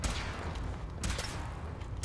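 Gunfire in Fallout 4 rings out as a few sharp bursts over a rumbling, busy battle backdrop, moderately loud with no talking.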